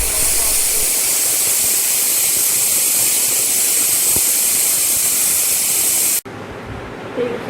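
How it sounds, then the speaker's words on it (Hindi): A large pressure cooker's whistle releases a loud, steady hiss of steam rushing out under pressure, then cuts off abruptly, leaving quieter room noise. "इसमें सीटी लगने के लिए मैंने बड़ा कुकर ले लिया था"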